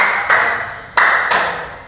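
Three sharp hand claps in an uneven rhythm, spaced across two seconds in a classroom clapping pattern, loud and close with a short ring after each.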